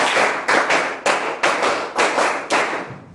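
Group of people clapping together in a counted pattern, sharp unison claps grouped in quick pairs and short runs with brief gaps, loud and close, no speech.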